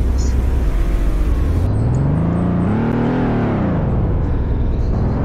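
A car driving in the Roblox video game, its engine tone rising and falling in pitch as it accelerates and eases off, loud and continuous throughout, with no talking.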